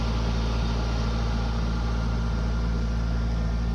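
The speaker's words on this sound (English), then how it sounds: "my reefer just started up, which is kind of loud." A truck's reefer refrigeration unit runs steadily nearby, a loud, even mechanical hum and drone with strong low tones that holds without change throughout.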